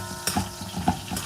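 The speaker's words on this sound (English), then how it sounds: "So that frying up nice there" Duck pieces cooking with pepper for curry in a pot sizzle and crackle steadily, with a few scraping stirs against the pot, close and fairly quiet with no talk.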